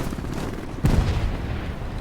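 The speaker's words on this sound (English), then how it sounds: "Bombs away." A Grumman fighter-bomber's bombs exploding in War Thunder, a single heavy deep boom bursting out of a constant loud rumble of engine and wind noise, then fading back into the roar.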